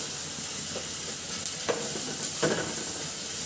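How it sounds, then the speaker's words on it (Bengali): Onions frying in a pan for a village-style Bengali dish of small fish with spring onions, a steady close sizzle with brief stirring clatters, heard alone without talk. "পেঁয়াজটা আমি সুন্দর করে ভাজি করে নেব"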